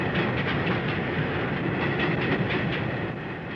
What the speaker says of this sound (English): The passage of a train shows how the old structure of the 1860s reacts to the heavy traffic